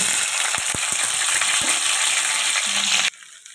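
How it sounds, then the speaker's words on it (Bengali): Shrimp fry in hot oil with a steady, close sizzle and a few soft clinks of stirring, the crackle running unbroken for about three seconds before cutting off abruptly. "চিংড়ি মাছগুলো ভেজে নিচ্ছি"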